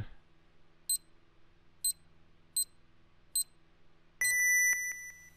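Four evenly spaced electronic beeps from an alarm in the game INFRA, followed by a louder sustained high-pitched tone that fades in steps.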